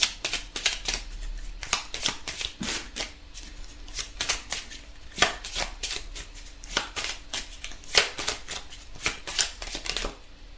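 Playing cards are shuffled repeatedly up close, a rapid series of crisp riffling bursts with short pauses between them.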